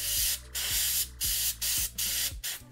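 Airbrush spraying paint onto tabletop miniatures, a steady close hiss broken into five or six short bursts with brief pauses between, no talking.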